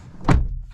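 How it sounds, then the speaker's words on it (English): Door of a 2023 Honda Accord Sport-L Hybrid shutting, one solid, dull thunk at close range followed by a brief low resonance. "Solid sounding doors."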